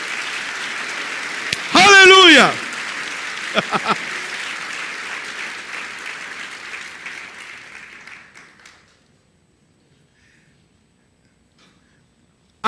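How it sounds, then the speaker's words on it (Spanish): A church congregation claps loudly for Jesus Christ during a sermon. A shouted voice rises over the applause, which thins and fades to silence after about eight seconds. "Dale un aplauso fuerte a Jesucristo"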